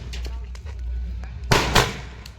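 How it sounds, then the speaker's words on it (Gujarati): Wedding firecrackers burst in two sharp, loud cracks close by, after a stretch of general crowd noise and murmuring. "લગ્નના ફટાક્યા ફૂટે છે"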